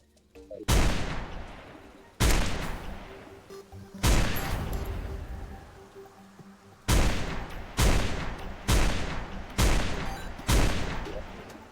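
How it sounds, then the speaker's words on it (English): The Halibut Cannon in the video game Terraria with the Calamity mod fires seven heavy, booming blasts at slow, uneven intervals. Each is loud and close with a long ringing decay, and no voices are heard. "he drops the Halibut Cannon, which is supposedly a really, really good gun"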